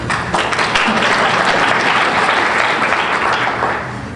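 A crowd at a mayor's state of the city address breaks into sustained applause, dense clapping holding steady for several seconds before tapering off slightly at the end.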